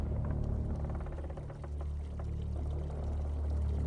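Water pouring down a channel into the tank of Al-Jazari's water-raising machine, a continuous rushing, gurgling flow with a low rumble throughout.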